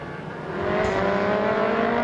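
An ASB 1000 superbike at the Thailand round of the Asia Road Racing Championship revs hard during a post-race burnout, its steady, loud engine drone rising and holding with a high whirring edge.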